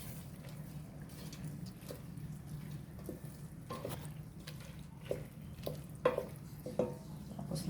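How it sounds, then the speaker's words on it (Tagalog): Water is poured into a small cooking pot (kaserola) while a home cook prepares Iloilo-style chicken with bottle gourd and bean sprouts, a soft, continuous trickle and splash with a few louder sloshes near the end and no talking. "Tapos lalagyan ko ng tubig."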